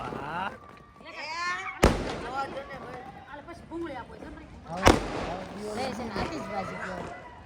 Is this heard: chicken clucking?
no